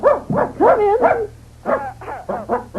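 A person imitates a dog barking and whimpering with the voice, giving a string of close, loud yips and woofs in two bursts separated by a short pause.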